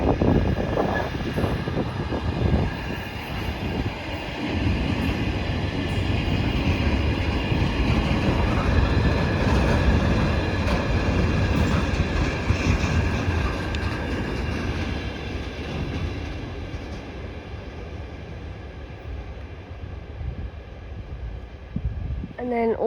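A heavy train passes near Aviemore station, a loud continuous rumble and roar with clattering wheels that swells and then slowly fades over about twenty seconds, with no talk.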